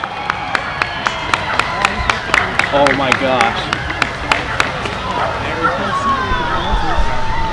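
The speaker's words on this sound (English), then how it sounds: "You can hear people cheering." Cheering crowd during the 2017 solar eclipse, a broad wash of distant voices with a steady pulse of sharp claps and whoops throughout, while nearby people exclaim over it.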